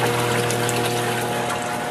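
Water from a drilled aquarium overflow on a clown loach tank pours steadily into the sump, a constant close gushing splash under a faint pump hum, no talk.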